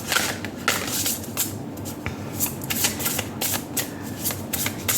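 A tarot or oracle card deck is shuffled up close in a quiet room, a run of quick papery riffles and slides in repeated short bursts.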